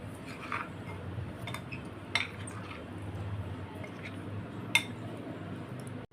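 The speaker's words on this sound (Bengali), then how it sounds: "আচ্ছা, এবার এটাকে আমি মেশাচ্ছি।" Spicy potato noodles being tossed and mixed in a bowl after oil and salt go in, giving soft squishy stirring with a few sharp utensil clinks against the dish, close and fairly quiet.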